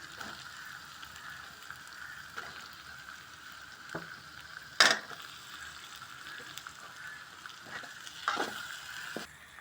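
Tomatoes, curry leaves and coriander sautéing in a pan for a carp fish curry, a soft continuous sizzle broken by occasional sharp scrapes and clinks of a spoon against the pan.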